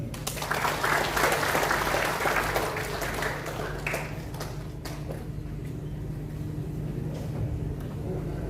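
An audience claps at the opening service of a church working meeting, dense applause loudest at first and then thinning into scattered claps and room noise.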